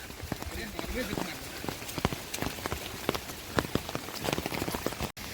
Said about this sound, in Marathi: तर खूप पाऊस आहे